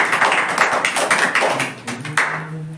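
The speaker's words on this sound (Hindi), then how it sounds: "इनके लिए जोरदार ताली बार।" A spoken English class gives a student a round of clapping, a dense burst of many hands applauding together, loud and close, tapering off near the end.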